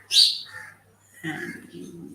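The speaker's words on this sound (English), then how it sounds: "I could hear the birds chirping" Birds in a village in Bellary district: a sharp, high chirp followed by a softer lower call and a brief cooing-like phrase, near and fairly quiet over a hushed background.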